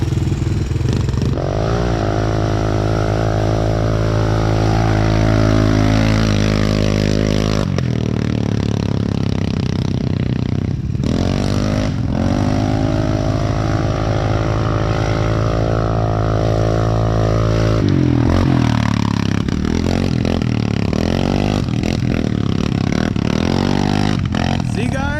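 A CFMOTO ATV fitted with a new clutch kit and Helix engine part drones loudly for the whole ride, its engine revving up and easing off in long sustained sweeps, while a voice talks now and then.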